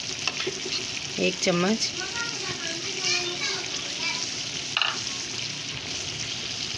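Chicken korma fries in a pot as spices such as red chilli powder go in, a loud continuous sizzle and crackle with stirring. A person speaks over it and a voice is faintly audible nearby.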